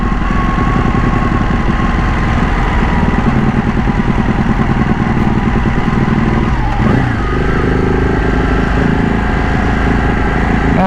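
A modified Ducati Panigale 1199 Tricolore superbike runs loud and close on a test ride, its engine droning steadily with a dense rumbling pulse and a slight shift in pitch partway through.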